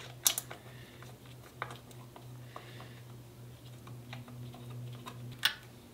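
Quiet, sparse clicks of a ratchet with an 8mm socket working on a Honda CBR/VFR800 motorcycle, irregular ticks at close range over a steady low electrical hum.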